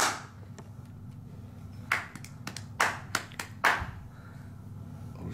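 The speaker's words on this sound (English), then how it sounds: "clap quite loud so then it's sync up" Several sharp hand claps ring out one after another to sync a recording in a dark room during a ghost-hunting session, each a crisp isolated crack over a low background hum.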